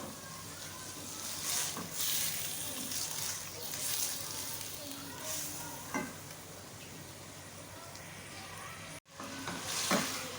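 Chicken pieces fry and sizzle steadily in a pan, with a spoon stirring through them in intermittent scrapes and clatters; no one speaks over the continuous hiss.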